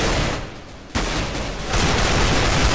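Dense, continuous gunfire in Counter-Strike: Global Offensive, loud and noisy throughout, dipping briefly before a sharp burst and then holding at a steady roar.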